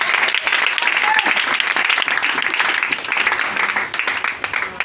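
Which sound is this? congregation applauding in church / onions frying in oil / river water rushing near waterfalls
congregation applauding in church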